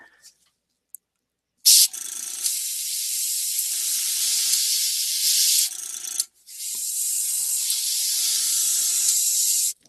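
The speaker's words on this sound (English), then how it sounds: "so let's do a little test spray" Paint thinned with thinners and alcohol goes through an airbrush in a test spray: two long, steady bursts of bright hiss, close and fairly loud, split by a short pause, with faint clicks before them.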